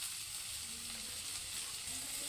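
Spinach and garlic cloves hiss in a hot pan, a steady broadband sizzle holding evenly throughout with a few faint tonal bits beneath and no talking.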